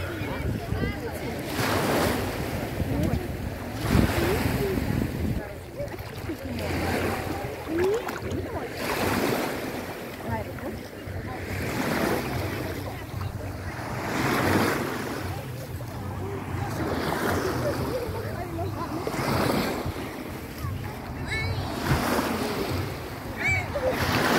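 Sea waves washing in on a regular cycle, each surge swelling and receding, with gusty wind noise buffeting the microphone throughout.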